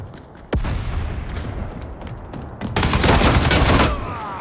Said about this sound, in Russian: Бросаю гранату.